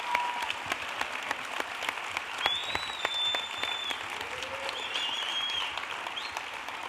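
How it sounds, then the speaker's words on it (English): Audience applause at a tech gala dinner for Dennis and the Georgia Firefighters Burn Foundation: steady, dense clapping from a large crowd sustained through the whole stretch, with no talk over it. "One more round of applause, please,"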